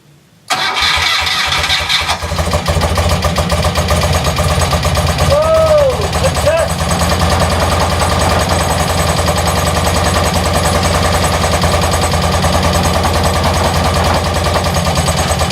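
A BMW R90/6 motorcycle boxer-twin engine cranks and fires on its first start after reassembly, then settles into a loud, steady, close-range idle with a rapid pulsing rumble.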